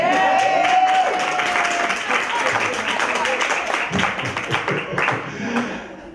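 At a comedy and poetry show, the audience breaks into loud clapping and cheering with a few shouts, the burst thinning out toward the end amid voices.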